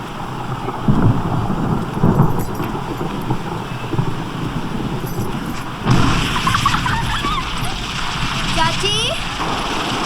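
Rainy-season thunderstorm: steady heavy rain with rumbling thunder swelling twice, once near the start and again midway, while people talk over it.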